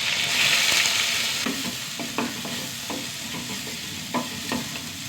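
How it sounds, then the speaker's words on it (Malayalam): Shallots, onion, cumin, dried red chillies and garlic fry in a pan for a Kerala curry, giving a steady oil sizzle with soft, irregular scrapes and taps of a stirring spoon, close and alone with no talk. "ഉള്ളി ഒന്ന് വഴണ്ട് വരട്ടെ."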